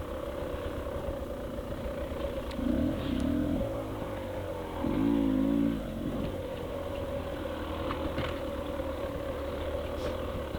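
A 2024 Beta 300RR Race Edition enduro motorcycle idles steadily on a trail, its engine rising in two short revs before settling back to a low, even idle, fairly close, with no speech.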